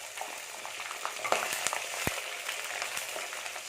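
Whole small shallots sauté in hot oil for a Thanjavur-style fish curry, giving a steady close sizzle with occasional scraping stirs and light clicks of a utensil against the pan.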